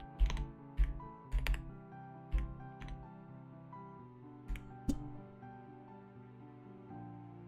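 Computer keyboard typing comes in irregular bursts of sharp clicks and clacks, loud and close, with short pauses between flurries of keystrokes.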